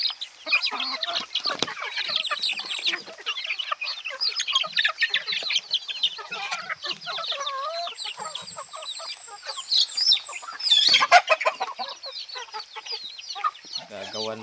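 Backyard chickens cluck and squawk busily at feeding time. The calls are near and overlapping, with one loud burst of squawking partway through and a voice talking briefly among them.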